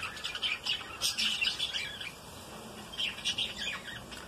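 Several adult budgerigars with their chicks squawk and chirp inside a cage, sharp harsh calls coming in bursts with brief pauses, fairly close and moderately loud.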